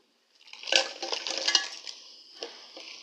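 Pieces of crab are tipped into spicy masala in a pan, giving a short, faint clatter of shell against metal followed by a light sizzle and a few scattered clinks.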